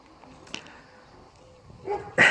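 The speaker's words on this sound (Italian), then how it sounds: "Cani che abbaiano." Dogs bark in a few short, sharp bursts, one early and a louder pair near the end, against a quiet background.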